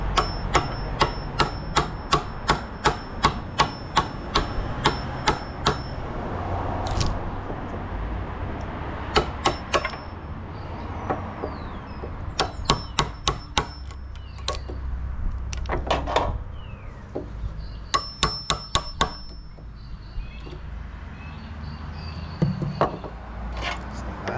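Sharp, rapid taps of a chisel cutting a line into a wooden door part, landing in quick bursts separated by short pauses, close and crisp with faint room noise between the strikes.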